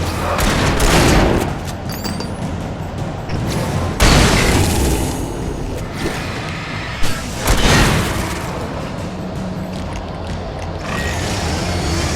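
Gunfire in the video game Alan Wake rings out loud and continuous, with heavy booming shots and rapid volleys overlapping in dense bursts throughout.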